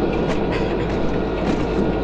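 A train rumbles loudly past at a station, a continuous close roar with rhythmic clickety-clack of wheels over rail joints.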